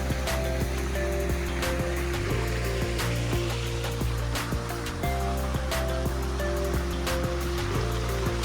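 Water feature splashing steadily into a 16 by 32 foot gunite backyard pool, a continuous close wash of falling water with no voices over it.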